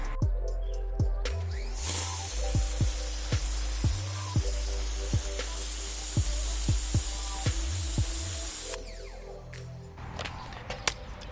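A CAT electric pressure washer fitted with a red nozzle blasts concrete, giving a loud, continuous hissing spray for several seconds that cuts off near the end, with faint clicks and tapping underneath.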